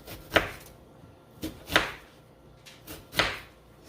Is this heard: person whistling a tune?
no